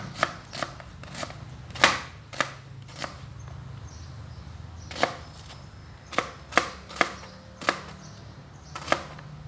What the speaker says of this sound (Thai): หอมใหญ่ก็หั่นครึ่ง